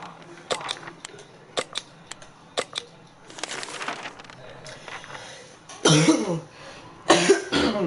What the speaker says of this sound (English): That was a cough, not a sneeze